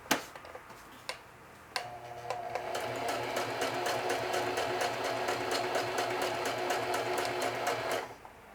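Sewing machine stitching a watch pocket onto a denim shield, a few isolated needle clicks at first, then a steady fast rhythmic run of stitching for about six seconds before stopping.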